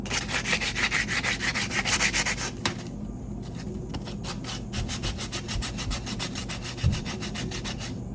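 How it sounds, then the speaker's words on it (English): Walnut wooden spoon being sanded by hand, a steady run of rapid back-and-forth rubbing strokes, dense at first, then a brief pause and lighter, spaced scrapes, close and alone without talk. "So I might have to sand a lot more."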